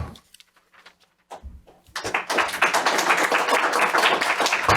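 A city council meeting audience breaks into applause after a public comment, dense, loud clapping that swells after a couple of quiet seconds with a few faint sounds and continues steadily to the end.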